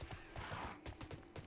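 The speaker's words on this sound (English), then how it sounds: "Whoa, my horse is freaking out there for a moment." A horse in the online game Tera whinnies and snorts in short repeated bursts with hoof clatter, faint and mixed with game background sound.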